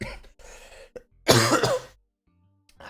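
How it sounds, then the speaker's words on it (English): A person coughing and clearing their throat amid a weeks-long bout of coughing, a few short rough bursts followed by one harsh, louder cough, close to the mic with brief pauses between. "Apart from my intense coughing"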